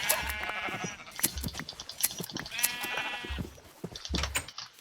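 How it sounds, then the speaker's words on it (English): Sheep in the video game Minecraft bleating repeatedly, several short wavering bleats in an irregular rhythm, fairly close and clear, mixed with small clicking game sounds and no talking. "I do kind of need to shear the sheep"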